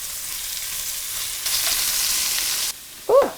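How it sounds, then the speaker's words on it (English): Vegetables sear lightly in a hot pan, a steady sizzle that swells louder midway, then drops off before a brief clatter at the end. "We're gonna kind of just sear them lightly on each side."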